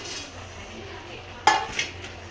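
A spoon clinks against a pan while carrot halwa with cashews is stirred, with a faint sizzle beneath and two sharp metallic knocks near the end.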